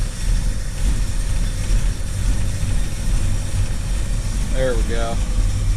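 The engine of a 1973 Starcraft Starcruiser motorhome, restarted after its choke came off too early, idles steadily and close by with a low rumble, while someone speaks briefly near the end.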